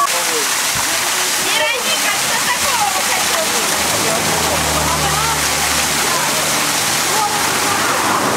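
A waterfall on a rafting trip in Arkhyz roars loud and steady with constant splashing, and it carries through the whole stretch with no pauses.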